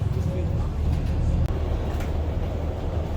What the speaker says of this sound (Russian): Ну вот, это наш автобус уехал.